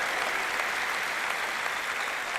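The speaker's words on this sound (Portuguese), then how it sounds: "dê uma grande salva de palmas ao Senhor enquanto encerramos" A church congregation applauds in a steady, dense wash of clapping that fills the room, with no voices standing out.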